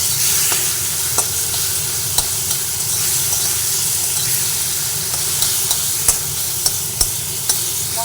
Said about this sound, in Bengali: সব দিয়ে মশলাটা সুন্দর করে ভেজে নেব